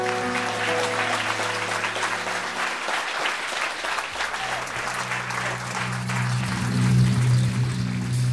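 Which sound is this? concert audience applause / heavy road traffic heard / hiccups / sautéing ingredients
concert audience applause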